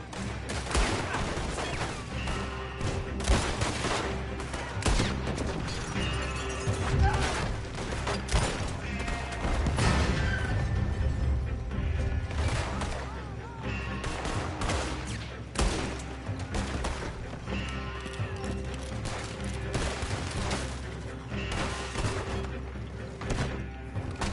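Sustained gunfire from a shootout in Red Dead Redemption 2, with dense volleys of shots, booms and crashes layered over game music, steady and loud throughout with a few faint voices.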